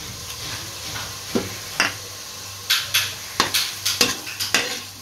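Ginger garlic paste and a bay leaf sautéing in ghee give a steady close sizzle, broken by repeated sharp scrapes and taps of a spoon stirring against the pan, with no talking.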